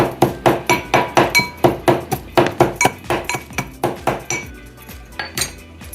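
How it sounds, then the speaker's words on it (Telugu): Garlic, cloves, cardamom and other spices pounded in a mortar for a Telangana-style chicken curry: a steady run of about twenty loud, close, clinking thuds that gradually weaken and slow toward the end. "కొంచెం మెత్తగా దంచాలి."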